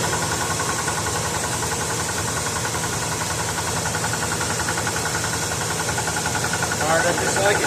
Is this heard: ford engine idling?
yes